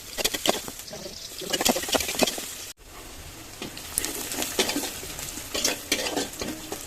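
Quail eggs fry in a pan while a utensil stirs and scrapes them, giving a steady close sizzle with irregular clinks and scrapes and no talking.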